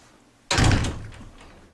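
A single loud door slam lands suddenly, followed by a short rattling decay in a quiet room.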